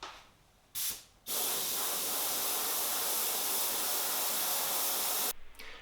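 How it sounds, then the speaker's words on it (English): Steady aerosol spray hissing as graphic elements are sprayed through a stencil onto a handmade bicycle frame, several seconds of continuous close spraying after two short bursts, with no talking. "when all these graphic elements are sprayed on the frame"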